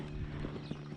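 A horse walking on pasture during a short farm ride, hooves giving soft, regular clip-clop steps over a steady outdoor background, close by.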